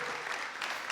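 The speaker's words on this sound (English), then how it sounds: "give her a round of applause" Brief applause rises for a guest speaker at a community gathering, a short burst of clapping with a small cheer at the start.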